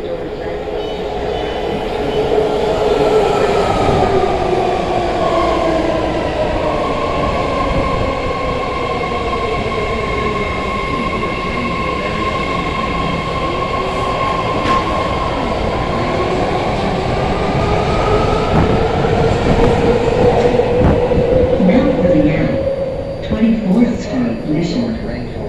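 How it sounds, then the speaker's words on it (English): A 10-car BART Fleet of the Future Yellow Line subway train at 24th St/Mission station rumbles loudly with whining, rising and falling motor tones and rail noise throughout; an onboard announcement speaks briefly over it. "This is a yellow line train to Pittsburg."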